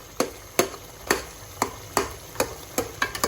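Chicken karahi with tomatoes frying in oil as a utensil knocks against the pan in a steady rhythm, about ten sharp clinks over a low sizzling hiss.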